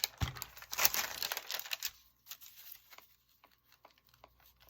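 Paper crinkles and rustles up close as it is cut, a busy burst of crisp handling that thins out into scattered faint snips and ticks.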